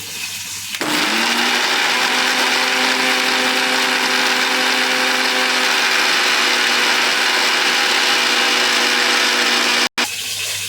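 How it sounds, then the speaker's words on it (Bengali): A kitchen blender runs continuously at high speed, loud and steady, whirring through spiced fish recipe ingredients for about nine seconds before cutting off abruptly. "এবার ব্লেন্ড করে নিব।"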